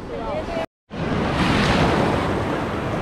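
Ocean surf at a Colombian beach makes a loud broad wash that stops briefly, then returns as a continuous roar of breaking waves with wind buffeting the microphone.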